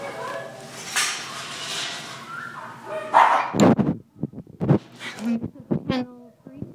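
Small dogs, including Chihuahua, Dachshund, Shih Tzu, Lhasa and mini Doberman types, bark in a shelter kennel, giving sharp, irregular yaps that punctuate a muffled background, with a person talking in the first seconds.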